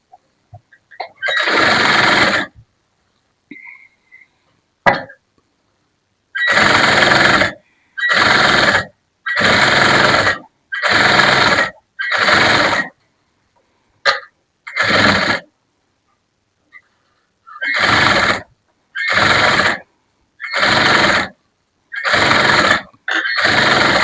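A sewing machine stitching a blouse runs in a string of loud, even bursts, each lasting about a second, separated by short silences and a few small clicks, close up and with no talking.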